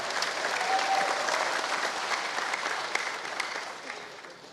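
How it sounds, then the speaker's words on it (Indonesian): Sustained audience applause at a political campaign rally in West Java, a dense wash of clapping that holds steady for several seconds before easing slightly toward the end. "tepuk tangan"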